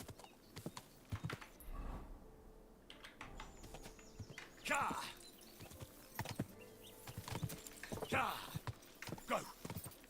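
A horse's hooves clip-clop in the video game Kingdom Come: Deliverance 2, giving faint, irregular close footfalls amid soft game sounds, with a voice speaking at points.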